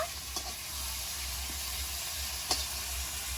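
Food fries quietly in oil in a pan, a low even sizzle with a couple of soft clinks from a utensil, heard alone without talk.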